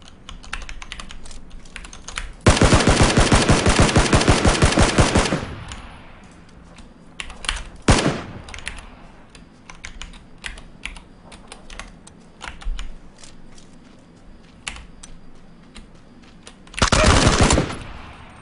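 Rapid automatic gunfire from a shooter video game: a sustained loud burst of about three seconds, a brief burst near the middle, and another short burst near the end, with quieter clicks and game noise between.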